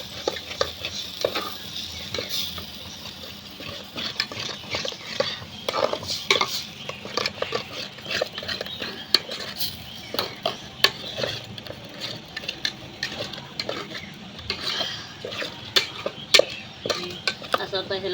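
Ground spice paste is stirred and sautéed in oil in a thin village pot over a wood-fired chulha for village chicken. Steady frying sizzle runs throughout, broken by frequent scraping and clinking of the spoon against the pot.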